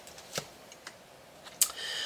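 Tarot cards shuffled by hand, giving a few quick, light riffling and flicking bursts close by in a quiet room.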